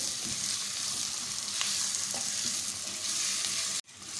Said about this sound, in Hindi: अब हमें इतना फ्राई करना है कि जो टमाटर हैं वो अच्छे से सॉफ्ट हो जाएं।